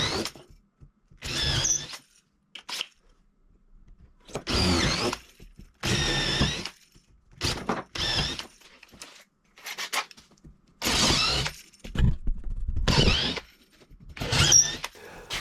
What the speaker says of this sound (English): I'm using the drill block with a 6mm bit, and then opening them up with a 7mm bit